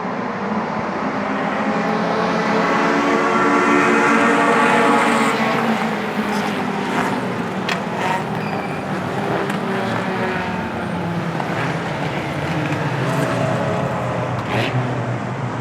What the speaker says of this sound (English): Here we go, we got the green flag. Everybody rev it up, floor it.